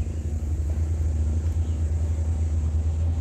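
Low, steady engine rumble from a passing Selo Agung stone material truck on a road, heard continuously at moderate loudness with no clear speech.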